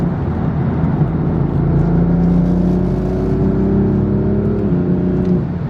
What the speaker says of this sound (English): The DCT just shifts, man. It's so nice.